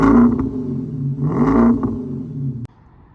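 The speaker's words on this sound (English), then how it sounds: "It's got an aftermarket AWE tuning exhaust, and it sounds mental." A manual V8 German coupe fitted with an aftermarket AWE Tuning exhaust revs twice nearby, each throttle blip rising to a deep growl and falling back, before the engine cuts to a quiet idle hum.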